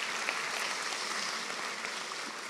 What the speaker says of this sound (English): round of applause for Clara